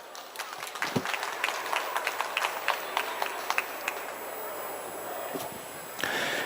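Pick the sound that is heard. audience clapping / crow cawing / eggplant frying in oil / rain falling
audience clapping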